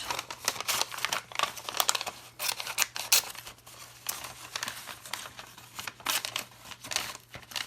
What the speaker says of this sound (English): I'm just cutting it straight down that crease.